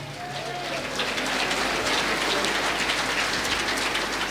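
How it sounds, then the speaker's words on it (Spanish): A church congregation at a Christian service bursts into dense, loud applause, a continuous crackle of many hands clapping close by for several seconds. "Fuerte aplausos, Iglesia de Cristo."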